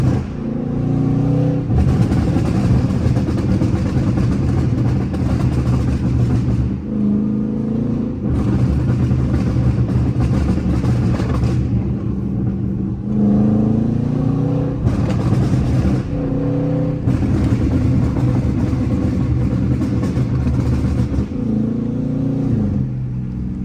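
Burble-tuned Dodge Charger R/T engine rumbling loud and close while driving through a valley, with deep throbbing idle-like burbles, repeated throttle swells and crackling pops at regular intervals throughout.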